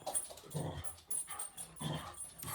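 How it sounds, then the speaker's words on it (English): A neighbour's dog growls, whimpers and yips at a distance, faint and continuous over a low background hum, with no talk. "Symphony of Dog with Scary Billy"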